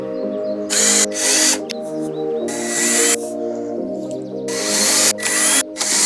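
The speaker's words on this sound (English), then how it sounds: "now it's just really drilling the rest of them in more or less the same spot." Power drill boring holes in an IKEA Billy bookcase, with several short, loud bursts of whirring and grinding separated by pauses, set against a low steady background hum.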